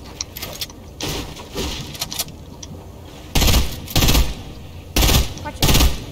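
Video game gunfire rattles in several loud automatic bursts, some short and some sustained, with quieter shots between them and players calling out over the shooting.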